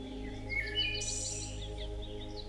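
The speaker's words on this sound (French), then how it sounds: "Écoutez ces oiseaux qui, après une longue journée de vol, regagnent l'abri de leurs branches." Birds chirp and sing at dusk among tree branches, scattered calls and tweets layered over a soft steady ambient bed with music-like sustained tones underneath, no talking.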